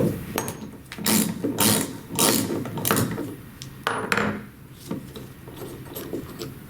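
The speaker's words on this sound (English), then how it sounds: "with a 1-inch socket and ratchet, remove the screen housing from the regulator body" A 1-inch socket and ratchet removes the screen housing from an inlet water pressure regulator body, giving a series of close ratcheting clicks and mechanical rasps in irregular bursts.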